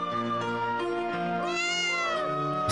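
A kitten meows repeatedly, close and clear, with long drawn-out rising and falling cries and no talking over it.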